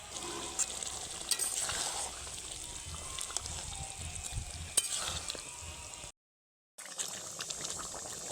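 Chicken sautéing in an uncovered pan, a steady moderate sizzle with occasional stirring scrapes, briefly dropping to silence before the frying continues.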